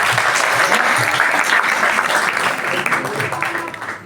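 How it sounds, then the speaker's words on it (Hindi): An audience at an Arya Samaj annual gathering in Noida breaks into loud, sustained applause. The dense clapping fills the hall evenly for several seconds with no pause, then eases off slightly near the end. "जोरदार ताली बजाओ।"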